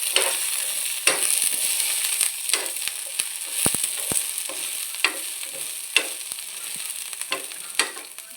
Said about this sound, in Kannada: ಒಂದು 6-7 ಎಸಳು ಬೆಳ್ಳುಳ್ಳಿ ಹಾಕಿ, ಮತ್ತು ಅರ್ಧ ನೀರುಳ್ಳಿ, ಅದನ್ನು ಸಹ ಸ್ವಲ್ಪ ಡ್ರೈ ರೋಸ್ಟ್ ಮಾಡಿ